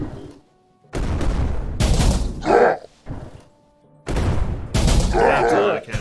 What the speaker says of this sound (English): That's a lot of cannons.